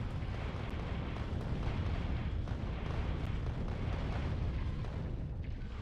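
Rocket explosions in the video game Factorio: Space Age, a dense continuous rumble of blasts and booms that stays loud and even throughout, with no talk.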